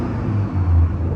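BMW M240i with a tuned 440 hp B58 engine accelerating, a steady low engine drone with intake roar that swells and deepens midway, continuous and fairly loud with no talking.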